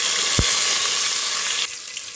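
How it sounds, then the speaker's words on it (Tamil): Small onions fry in a pan for a quail gravy, giving a loud, steady sizzle with a brief thump near the start that drops to a quieter crackle toward the end; no one speaks. "வெங்காயம் பாருங்கள் நல்லா வெந்துக்கிட்டு இருக்கு"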